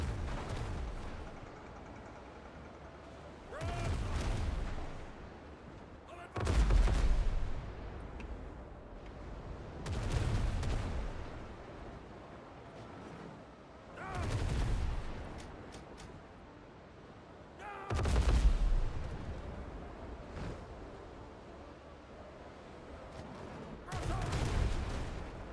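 Gunfire from the video game Windrose comes as heavy booming volleys repeating every few seconds, each one swelling and then fading into a steady background rumble.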